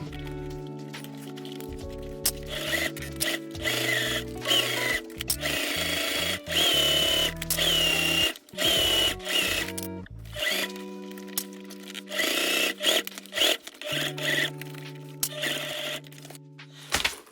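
A sewing machine bastes a gusset to the main panel of a quilted bag in several bursts of whirring stitching, close up, with pauses, fabric handling and small clicks between runs.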